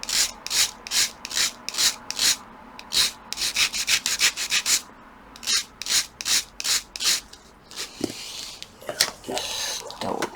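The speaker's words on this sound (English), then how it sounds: "so we just need a light sand." Light hand sanding of a wooden model ship hull for a Caldercraft HMS Victory, rhythmic close rasping strokes in quick regular bursts, becoming rougher and more uneven toward the end.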